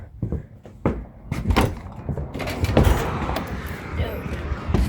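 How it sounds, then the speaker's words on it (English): A door on a Craftsman ride-on lawn mower swings shut with a solid knock, followed by scattered thumps and clatter as a man handles his service kit nearby, all close and fairly loud. "Dude, this door never stays open."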